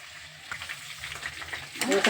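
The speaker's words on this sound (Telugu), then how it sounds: "సాల్ట్ వేసిన తర్వాత వీటిని అయితే కొంచెం ఫ్రై చేద్దామండి" Crab pieces frying in a pan after salt goes in, a soft steady sizzle that swells into louder crackling near the end.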